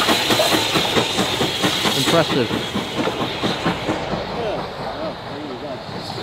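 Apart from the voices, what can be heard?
train passing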